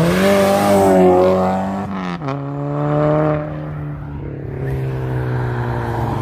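At a car culture meet in Katy, Texas, a Volkswagen GTI drives past loudly, its engine note climbing, then dropping sharply as it shifts and pulls away, and the rev holds steady afterward.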